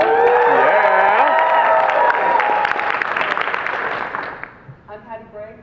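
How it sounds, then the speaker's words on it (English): An audience at a DragonCon convention panel claps and cheers loudly, with whoops and voices mixed in, then the applause thins out and speech takes over near the end. "this group will clap for everyone"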